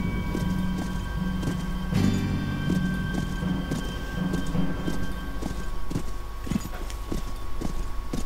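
Horse hooves clip-clopping steadily in the Wild West game Call of Juarez 2, a close, continuous rhythmic gait with faint low rumbling behind it.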